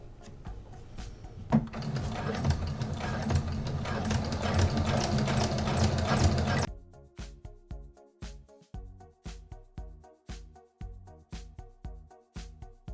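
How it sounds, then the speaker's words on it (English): A sewing machine stitches a nursing cover, first a loud steady whirring run, then a series of slower rhythmic mechanical thumps close by, with no speech. "you can take it back to your sewing machine and sew it down on the top"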